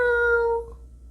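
A single cat meow with a clear tonal, slightly falling pitch, loud and close, used as an audiobook sound effect and heard alone with no speech.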